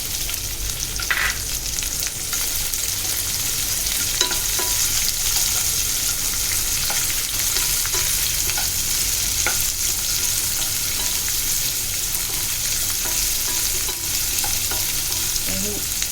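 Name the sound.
onion being sautéed in a pan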